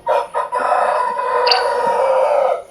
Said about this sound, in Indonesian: Suara ayam gitu.